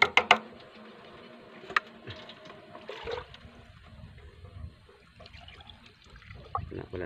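Liquid Frontier herbicide mix is poured out in the field, a faint, uneven splashing and trickling with a few sharp knocks of the container near the start.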